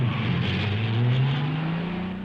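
Formula One race cars from Fangio's era roar past in a continuous loud engine drone whose pitch climbs steadily while accelerating, with no talk over it.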